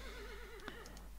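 A horse in the video game AE Mysteries gives a single wavering neigh with a faint hoof clop, quiet and brief against a low background hum.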